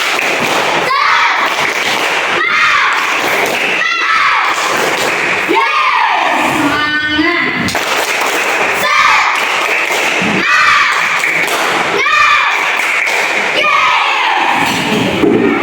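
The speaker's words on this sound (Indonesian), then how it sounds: "Sebelumnya tepuk semangat." A group performs a rhythmic spirit clap (tepuk semangat), bursts of sharp collective claps in patterned sequences repeating across the clip, loud and close, with voices shouting along between the clapping runs.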